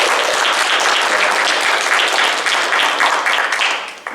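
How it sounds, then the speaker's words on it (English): Audience at a 2022 GiveCamp volunteer closing presentation breaks into loud, close applause, dense continuous clapping that fades near the end. "give a round of applause for everybody being here this weekend"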